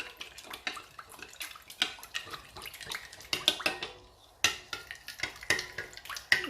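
Baking powder being stirred into water in a bowl for puri dough, a spoon knocking and clinking sharply against the bowl in quick irregular strokes, with sloshing water and a short pause midway.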